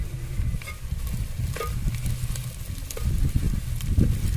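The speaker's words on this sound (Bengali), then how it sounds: "কাঁচা মশলা দিয়ে আবার আমি দু মিনিটের মতন ভেজে নেব" Ginger paste and green chili frying with onions in a clay pot for a desi chicken curry, giving a dense continuous sizzle with occasional stirring scrapes and light knocks.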